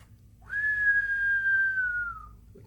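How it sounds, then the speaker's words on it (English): A single person whistles one long, clear, sustained note that glides slightly downward before fading, heard alone over a faint low background hum. "He whistled."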